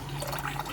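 Running tap water flows steadily over chickpeas in a kitchen, a continuous close splashing and gurgling with no voices.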